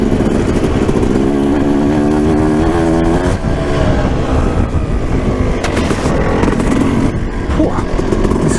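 A 12-year-old two-stroke dirt bike engine runs loud and close, with a continuous raspy idle and blips of revving throughout.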